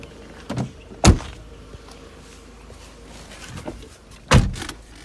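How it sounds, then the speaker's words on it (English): Two solid thumps of a 1996 Mercedes-Benz C220 car door being shut, a few seconds apart, close and loud, with softer handling clicks and rustles in between. "Let me just close that door."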